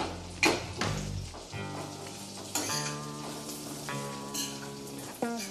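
Apple crisp topping added to melted butter in a pan on the stovetop, a soft steady sizzle with clinks of a utensil against the pan.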